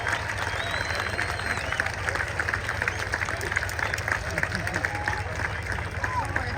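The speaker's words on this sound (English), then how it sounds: "Let's give him a nice big round of applause." Audience at the Oshkosh 2023 airshow applauds a performer: steady crowd clapping and cheering, with a constant low engine-like drone and a few voices underneath.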